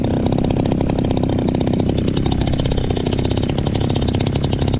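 A hand-started engine on a Senior Telemaster RC model airplane runs steadily at close range, a loud, buzzing, rapid-firing drone that holds an even pitch throughout with no voices.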